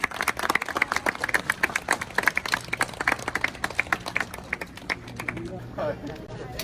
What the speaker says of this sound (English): I give a round of applause for the fire department.